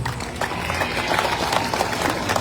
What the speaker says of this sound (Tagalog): Pwede ba palakpakan natin yung mga staff natin?